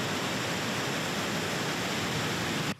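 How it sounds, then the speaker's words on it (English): High surf pounds the Southern California coast as a continuous, loud broadband roar of crashing and washing water with no pauses, cutting off abruptly at the end. "High surf pounded several coastal communities"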